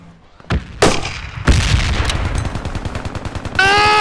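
Gunfire in the military shooter game Project Reality: a couple of sharp single shots, then a heavy blast followed by a rapid rattling burst of automatic fire, and a final ringing, loud close-range report.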